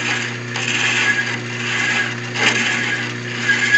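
A lathe cuts threads on a workpiece with a steady, close machine hum and a continuous scraping whir of the cutting tool that swells and fades slightly, with no speech.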